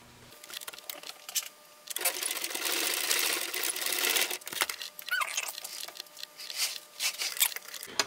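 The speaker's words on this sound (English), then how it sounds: "I'm just going to top stitch this piece right here down really quickly" A sewing machine fitted with a leather needle top stitches a leather bag shoulder strap in quick close bursts, with short pauses and light handling noise between runs of stitching.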